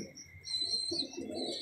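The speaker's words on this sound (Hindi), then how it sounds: "बहुत कमाल कबूतर है चिट्टी कड़ी वाला" A pigeon with a white leg ring gives a soft, low coo close by, with faint chirps from other birds around it.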